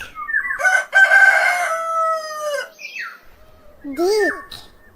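Farmyard rooster crowing one long, loud, close call, followed by a shorter squawk or cluck a moment later; no talk.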